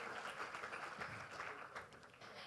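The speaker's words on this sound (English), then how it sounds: "can we just give a round of applause for that hard work?" Faint, steady applause from an audience at a startup pitch festival, continuous clapping heard at a distance with no voices over it.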